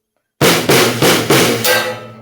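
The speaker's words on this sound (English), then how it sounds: "So we're just going to hit the snare 4 times." Four loud, close snare drum hits played as a simple fill, evenly spaced and each ringing into the next, the last one decaying away, after a brief silence.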